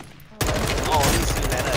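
Enemy gunfire in the Modern Warfare 2 campaign bursts in loud and sudden after a quiet moment, a dense rattling fusillade of rapid shots that continues without a break.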